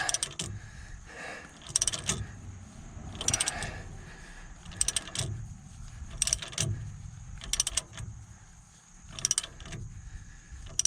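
A pinion nut breaking loose on a Dodge Ram 2500 AAM 9.25 front axle, repeated ratcheting clicks in bursts from a wrench being cranked, close and mechanical with short pauses between pulls.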